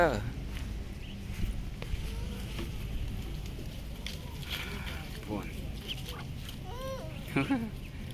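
Ducks quack and honk in short bursts nearby amid rustling and footsteps, with people talking in the background.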